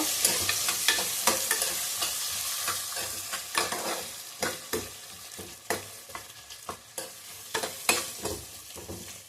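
Onions sizzle in a hot pan for tomato bath while a spoon stirs and scrapes them, giving steady frying hiss broken by regular sharp clinks and scrapes, close up and with no talk.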